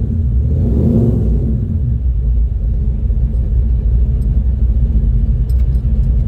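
Engine of a 1970 Chevelle idling and running steadily during a ride along, a deep continuous rumble with a slight swell near the start, heard from inside the car with no talk.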